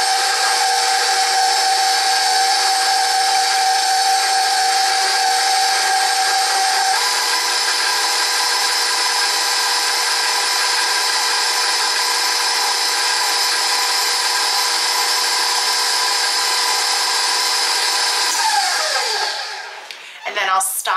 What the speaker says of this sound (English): attach that whisk and get this whipped up